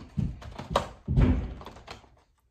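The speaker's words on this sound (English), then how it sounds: "Are they knocking my door?" Several knocks on a bedroom door at home, close and loud, coming in uneven bursts of dull thuds that stop before the end.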